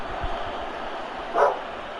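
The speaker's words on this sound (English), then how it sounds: "Guys, if you hear a dog barking, it's my actual female dog." A single short bark from the speaker's own female dog, heard indoors over the steady background noise of a PES 2021 football game.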